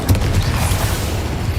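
Incendio fire spell cast in the video game Hogwarts Legacy: a dense, booming burst with crackling noise, loud and sustained for under two seconds amid continuous combat rumble.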